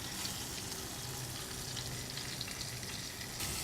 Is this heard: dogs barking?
no